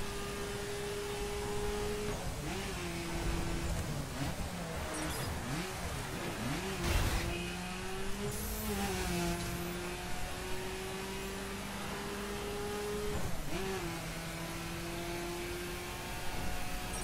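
Engine of a Mini Countryman Cooper S in the racing game The Crew, a steady droning hum that rises and falls with throttle and gear changes, continuous and moderately quiet throughout with no voice over it.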